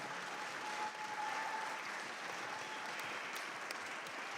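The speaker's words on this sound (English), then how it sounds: "Please give a round of applause to all the heroes standing before us." Steady, dense clapping from a crowd at a Korean War veterans Armistice Day commemoration, sustained for several seconds with no talking over it.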